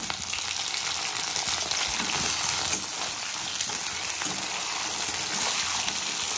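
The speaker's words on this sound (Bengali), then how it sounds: "শিম কটা আমি মিনিট খানে ভেজে নিয়ে" Beans frying in a pan with lightly browned onions give a steady, loud sizzle that runs unbroken throughout, with a brief stir or clatter near the middle and no talking.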